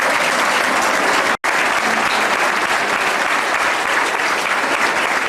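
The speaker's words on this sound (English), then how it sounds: "I'd like to give them a round of applause" Loud, dense applause from an audience at a 1999 high school football awards ceremony for the offensive linemen, broken by a brief dropout near the start before the clapping resumes at full strength.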